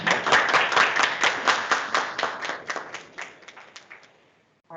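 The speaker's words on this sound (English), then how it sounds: "can we get a big round of applause for Rosie?" Applause from a small workshop audience, with a dense burst of clapping that tapers off over a few seconds into quiet.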